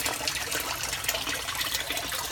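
An aquaponics system pumps water back into its tank, giving a continuous close gush and splash of flowing water without pause.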